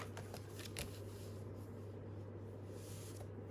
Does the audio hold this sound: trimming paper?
yes